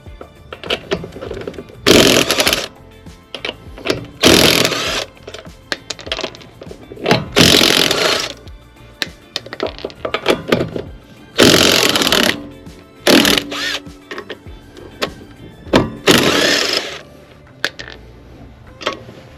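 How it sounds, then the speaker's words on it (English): Loud bursts of an impact drill with a 19mm socket loosening lug nuts on a 2008 Honda Civic, hammering in repeated short runs separated by brief pauses, close up. "with this impact drill and a 19mm socket, you want to go ahead and loosen the 5"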